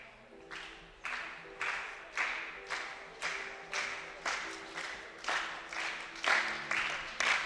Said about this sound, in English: Great to hear the support from the crowd.